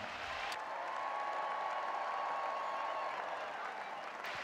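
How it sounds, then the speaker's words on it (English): Stadium crowd at the Rose Bowl applauding honorees during an on-field celebration, a steady wash of distant clapping lasting throughout, with a faint sustained tone and crowd murmur underneath. "a round of applause for Jim, Joe, Bob, and John"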